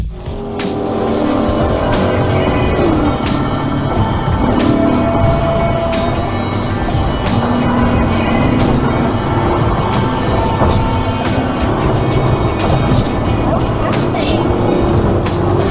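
Cars race and swerve along a road in a high-speed chase filmed from a dashcam: loud, continuous engine roar with tire squeal and passing vehicles, a voice talking over the din.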